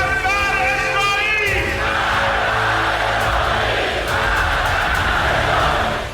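A large crowd chants vows during a general's funeral procession through the streets of Tehran, a loud massed roar of voices rising from a wavering cry into sustained rhythmic shouting.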